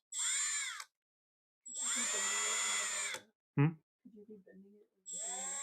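A drill whines in long steady bursts while spinning a metal hinge pin pinched in a Scotch-Brite pad under light pressure, with a few brief knocks between runs in a quiet workshop.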